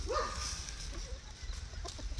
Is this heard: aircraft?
no